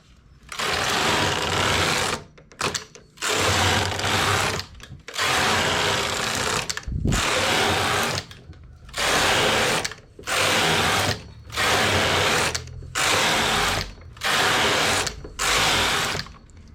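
A knitting machine carriage knits a unisex collar in a steady run of about ten loud, evenly spaced passes, each a long mechanical rasping sweep separated by brief pauses as the carriage changes direction.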